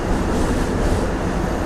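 A DEMU passenger train pulls out of Obulavaripalli station in Andhra Pradesh, giving a steady, loud rumble of engine and rolling wheels close by, with no talk over it.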